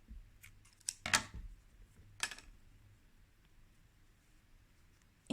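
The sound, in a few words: scissors cutting crochet yarn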